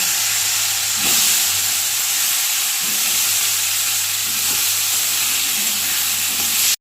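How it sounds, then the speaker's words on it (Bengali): Pointed gourd (potol) fries in a kadai, making a loud, continuous hiss and sizzle heard up close and alone, with a few soft stirring knocks. "এই কড়াতেই আমি পটলগুলো ভেজে নেব।"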